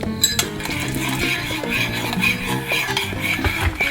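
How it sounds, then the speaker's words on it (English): A spoon stirs instant coffee powder into water in a cup, rapid rhythmic clinking and scraping of metal against the sides, close and busy for the whole moment. "You can stir the coffee to a well, you know, dissolve all the powders"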